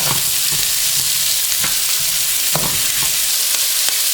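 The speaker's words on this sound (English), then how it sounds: "so go ahead and saute your peppers. I'm going to saute these for about 2 minutes." Bell peppers sauteing in oil in a pan for a Jamaican brown stew chicken, giving a steady broadband sizzle with occasional soft stirring knocks and clinks throughout.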